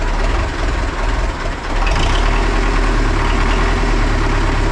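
A D-240 tractor diesel engine idles loudly and steadily after an overhaul and injection pump repair, a low rumbling drone with a rough vibration throughout.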